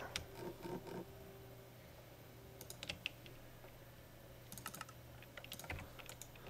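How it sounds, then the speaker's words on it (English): Computer mouse clicks while placing blocks in a Minecraft game, heard as faint, sparse clusters of quick ticks separated by quiet gaps. "Right clicking and placing blocks."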